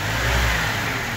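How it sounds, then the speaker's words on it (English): A car engine revs loudly and steadily close by, a continuous throaty roar with no voices. "Why don't we give it a couple revs?"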